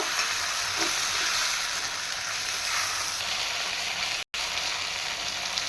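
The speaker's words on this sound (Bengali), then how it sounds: "আমি আরও দু মিনিট ভালোভাবে নেড়ে একটু ভেজে নিয়েছি" Mango chutney with turmeric fried and stirred in a pan gives a steady close sizzle with soft scraping stirs, continuous and even, with one brief gap near the end.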